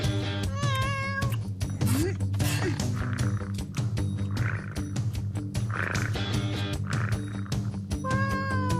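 Cat meowing in a French animated cartoon, several high drawn-out meows set against a steady music score and busy effects, loud and continuous throughout.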